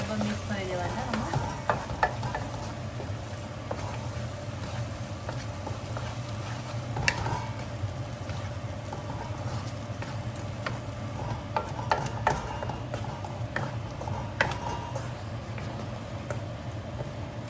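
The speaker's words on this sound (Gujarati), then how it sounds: "2 ટામેટાની પ્યોરી બનાવી છે. એને પણ બરાબર મિક્સ કરી દેવાના આમાં." Tomato puree being stirred into pav bhaji cooking in a pan, a steady sizzle and frying hiss running throughout with soft scraping strokes and occasional clicks of the spoon against the pan.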